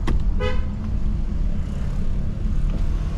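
Road noise fills the cabin of a BYD M6 with a window rolled down: a steady, loud rumbling wind-and-tyre roar, with a short horn-like toot from passing traffic near the start.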